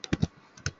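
A computer keyboard gives a quick burst of a few sharp, close key clicks, spaced unevenly within under a second, with no voices.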